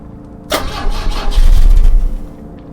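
Car engine in the video game The Drifter cranks loudly in a single grinding burst of starter whirr lasting about a second and a half, churning without catching, then dies back to quiet.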